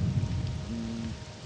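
Rain falls in the video game Morrowind, a steady even patter with a low rumbling undertone, continuous and fairly loud throughout the short stretch.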